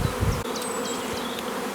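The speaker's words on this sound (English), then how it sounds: "the bees are really working it hard" Honey bees forage over a field of flowering oilseed rape, giving a close, steady buzzing drone. Individual bees fly past the listener and their pitch bends as they go by, and no one speaks.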